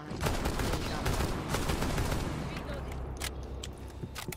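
Rapid gunfire rattles in a tactical shooter video game as a teammate opens fire, dense bursts of shots crackling loudly before thinning to a few scattered cracks.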